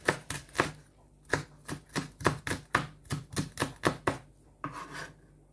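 A knife chops onions and chilies on a board for lentil pakoras, about fifteen crisp, close strikes in uneven bursts with brief pauses between groups.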